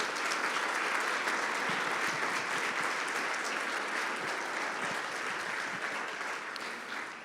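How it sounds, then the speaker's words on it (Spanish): A church congregation applauds during a sermon, with dense, sustained clapping that fills the space and stays steady before easing slightly at the end. "Denle un fuerte aplauso si le va a aplaudir."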